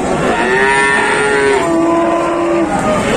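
Cows at the Gondanglegi livestock market in Malang, Indonesia, one long loud close moo with a second cow lowing alongside over a busy background murmur.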